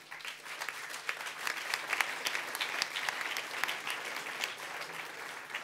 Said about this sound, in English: I will pass your applause to my colleagues